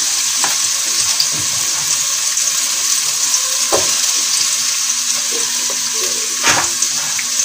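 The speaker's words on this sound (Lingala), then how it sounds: "nakoya kotia oignon na ngai na mafuta" Onions frying in oil in a pan for chicken spaghetti, a steady bright sizzle close by with a few sharp knocks of a utensil against the pan.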